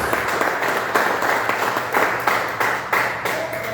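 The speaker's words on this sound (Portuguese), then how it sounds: "Glorifica a Deus com palmas bem alegres do Senhor Jesus." A church congregation claps together in praise during a worship service. The clapping is loud, dense and steady, with a regular rhythmic pulse about twice a second throughout.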